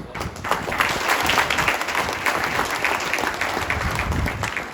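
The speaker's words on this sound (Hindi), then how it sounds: "मुझे पता था ये बात बोलने के बाद तालियां बजेंगी" An audience bursts into sustained applause at a talk, dense clapping from many hands filling the room steadily for several seconds, loud and close.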